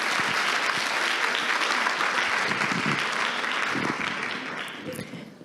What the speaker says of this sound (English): We want to applaud them for all their work